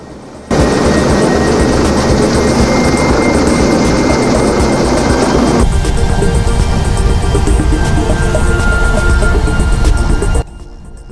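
Coast Guard Auxiliary helicopter hovering behind a boat at sea, a loud steady rotor and engine roar that holds for about ten seconds, then cuts off abruptly.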